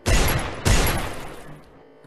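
Two heavy gunshots boom close together in the VR zombie shooter Wretched, each with a long rumbling tail that fades over a second or two.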